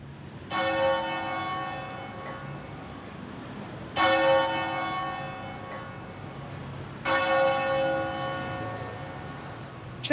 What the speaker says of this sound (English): Church bells ringing out at Plymouth Civic Church in tribute to Her Majesty the Queen.